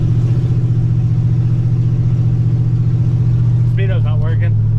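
A 1963 Corvair 95 with a mid-mounted engine drives along, its steady low engine drone and road rumble continuous throughout, with a voice speaking briefly near the end.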